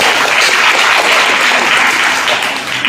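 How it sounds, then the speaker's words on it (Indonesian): Junior high school students at a character-building session break into loud, sustained applause, a thick crowd of clapping hands filling the room evenly for a few seconds before tapering slightly, with no voices over it. "Kita beri tepuk tangan."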